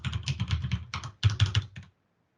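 Typing on a computer keyboard: close, quick clusters of crisp key clicks in two bursts separated by a short pause, then silence.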